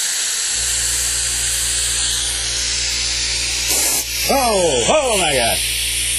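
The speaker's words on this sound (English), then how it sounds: "I don't use that compressed air. I use my own compressed air." A person blows hard by mouth into a dusty computer to clear it, giving a steady loud rushing hiss for several seconds before a voice briefly exclaims.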